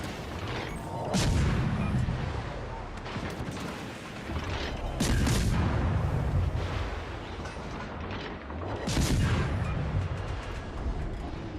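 Warship guns in a naval video game firing three heavy booming salvos spaced a few seconds apart, each a deep thump with a rumbling tail under steady background game noise.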